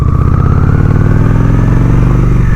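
A Honda Shadow 750 ACE motorcycle engine running loud and close, a deep steady throbbing rumble with a smooth, even pulse and no voices.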